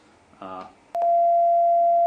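A steady synthesized sine tone from Reaper's built-in tone generator sets in sharply after about a second and holds one constant pitch, loud and unwavering, to the end. It follows a brief, quieter voice-like burst.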